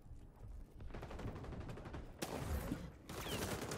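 Rapid gunfire in the video game XDefiant: overlapping automatic bursts crackle in quick succession, with a sharper, louder volley breaking in partway through and firing continuing to the end.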